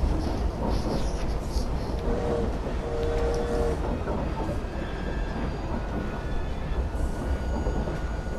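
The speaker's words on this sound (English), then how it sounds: "Sneaking in on a train." A train in Assassin's Creed Syndicate rumbles steadily and loudly throughout, with a continuous low roar, rattling carriages and brief faint wheel squeals near the middle.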